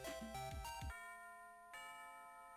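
A chiming school bell rings in a Battle Network video game, a bright ding-dong tone sounding twice with a sustained ring after each strike, clean and fairly quiet.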